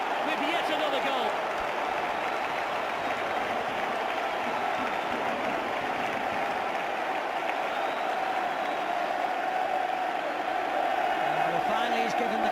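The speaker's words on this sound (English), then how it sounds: "Finally, he's given the crowd something to cheer about." Broad, steady wash of applause and crowd noise fills a football stadium during a Barcelona versus Arsenal Champions League match after a Messi goal, with commentary talking over it throughout.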